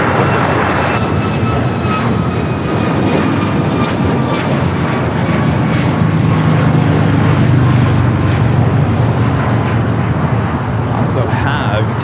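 A jet airliner's engines roar steadily through a runway takeoff at LAX airport, loud and continuous throughout, with an air traffic control radio voice talking over it.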